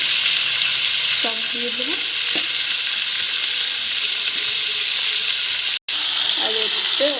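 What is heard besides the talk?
onions and tomatoes frying in fish curry gravy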